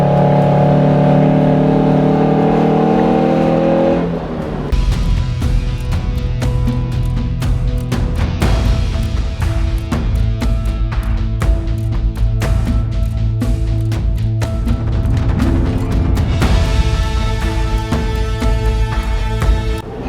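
A car engine labours loudly up steep mountain terrain on the rough track from Rimkhim Pass toward Lapthal Pass in Uttarakhand, a continuous straining drone with rattling and bumping throughout, close and without talk.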